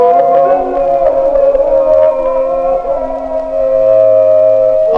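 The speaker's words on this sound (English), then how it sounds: "The call is taken up from mosque to mosque, and the sound is amplified by loudspeakers within each minaret." An Islamic call to prayer rings from minaret loudspeakers in Yemen in 1977, a sustained, wavering amplified voice with a siren-like drone, loud and continuous with a slight dip midway.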